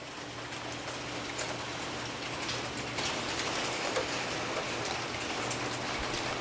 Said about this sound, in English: You can hear the rain pouring down.